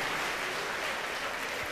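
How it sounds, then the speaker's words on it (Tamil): An audience claps to welcome the next speaker at a ceremony in an academy hall, a dense and even burst of applause with no voices over it. "அடுத்து ஒருத்தர் பேச வந்தா ஒரு கைத்தட்டி அவரை வரவேற்கிறது இல்லையா?"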